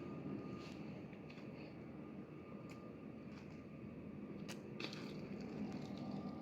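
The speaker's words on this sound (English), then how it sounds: "Sorry about the airplane noise." Airplane noise near an airport, a steady broadband engine roar filling the whole clip at low level, with faint scattered clicks and rustles over it and no speech.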